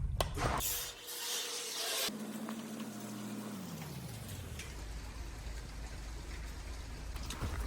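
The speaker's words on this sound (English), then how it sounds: "hopefully it'll stop raining and we can go do the video" Steady rain hissing and pattering on a surface, constant and fairly loud, with a brief low mechanical hum fading out early on.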